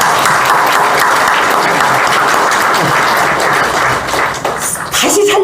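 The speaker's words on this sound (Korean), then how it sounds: "다시 한번 우리가 박수 한번 치고 축하를 해야 되겠죠" A church congregation claps together in celebration during a resurrection sermon, loud and fairly even, thinning near the end as a voice begins to speak.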